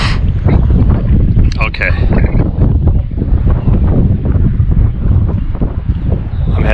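Strong wind buffets the microphone at the top of the Elba fire tower, a steady roaring rumble that lasts the whole stretch, with a person speaking briefly over it.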